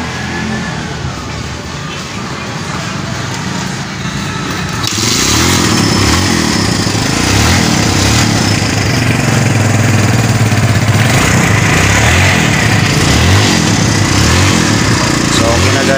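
Kawasaki Barako 175 motorcycle engine running after fresh piston rings were fitted, a steady loud idle that rises into a fuller, denser running note partway through, with faint voices in the background.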